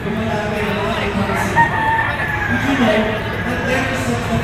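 A Boston Roundhead gamefowl rooster crows at a crowded gamefowl expo, its call carried over a steady murmur of voices and hall noise.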